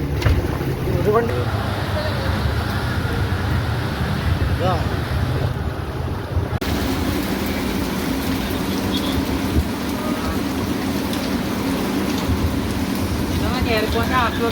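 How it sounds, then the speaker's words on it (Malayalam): Heavy rain pouring outside a building in Malé during a flood, with vehicles nearly submerged: a dense, continuous roar with wind buffeting the microphone and faint talk over it. "അവിടെ മാലിയിൽ ഇപ്പം പെയ്തുകൊണ്ടിരിക്കുന്ന മഴ"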